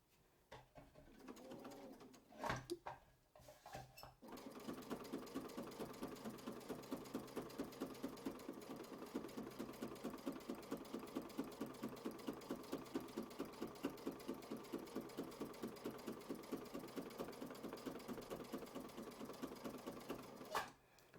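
Sewing machine stitching a quilt block, running in a steady, even rhythm of rapid stitches for most of the stretch after a few short starts and stops, close and clear with no talking.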